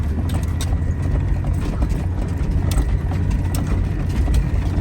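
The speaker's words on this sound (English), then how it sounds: "Truck just crawls." A lifted Chevy K1500 truck crawls up a steep, rough Arizona hill in four-low with the locker engaged, its engine rumbling low and steady while gravel and suspension clatter and tick throughout.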